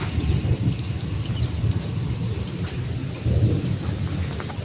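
Heavy rain pours steadily with low rumbling thunder rolling underneath, loud and continuous throughout.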